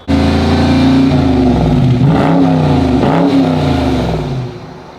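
A car engine revs hard and loud close by, holding a high, rising and falling roar with a couple of throttle dips before easing off at the end.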